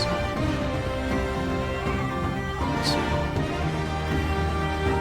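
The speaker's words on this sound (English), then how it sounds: "when you play chords with a combination of trombones and French horns" Sustained brass chords from trombones and French horns swell in a dense, steady block, low and full, with a brief bright accent partway through.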